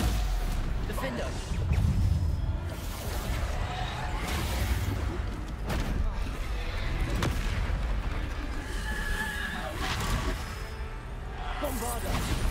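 Bombarda spell explosions in Hogwarts Legacy boom repeatedly amid combat, heavy bursts and whooshes recurring every second or two, with a voice calling out spell names over the din.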